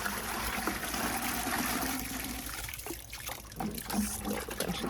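Water splashes and trickles steadily as it is poured to dilute a hydroponic nutrient solution toward five gallons. The pour is close and continuous, then turns more uneven and gurgling near the end.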